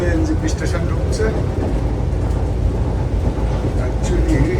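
Vande Bharat sleeper train from Howrah running toward New Jalpaiguri, heard from inside the coach as a steady low rumble and rattle, with people talking over it.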